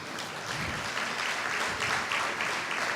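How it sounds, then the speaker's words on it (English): Sustained audience applause fills a hall at the 2017 FATE Foundation annual celebration as chairman and founder Fola Adeola is welcomed, a dense, steady clapping throughout. "If Fate Foundation has impacted you, you make that applause stronger and warmer."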